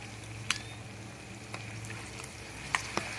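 Tomatoes going into a pan of boti curry frying in masala: a soft, steady sizzle with a few sharp clicks and taps of a utensil against the pan, quiet and close.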